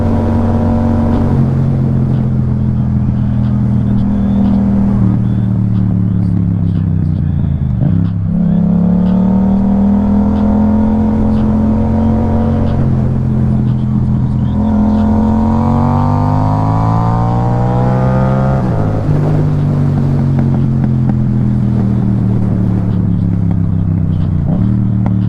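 Yamaha MT-07 motorcycle engine revving hard during wheelie practice, with repeated rising and falling throttle sweeps and gear changes, loud and close throughout.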